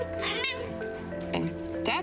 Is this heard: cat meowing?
yes